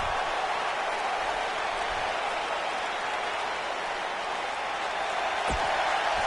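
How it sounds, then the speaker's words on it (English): A wrestling video game arena crowd roars in a continuous, dense wash of cheering and applause, loud and unbroken, with no voices standing out. "Listen to that crowd."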